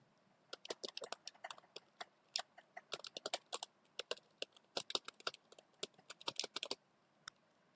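Quick, irregular clatter of a computer keyboard as Python code is typed, crisp close keystrokes in bursts and pauses, quiet overall with no talking.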